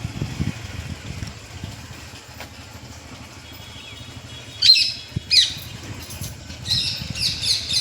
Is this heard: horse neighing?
no